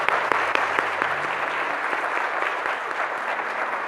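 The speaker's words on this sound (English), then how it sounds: "let's give them a round of applause also" An audience at a Teacher of the Year celebration claps in steady applause, a dense crackling patter of many hands filling the room at even loudness.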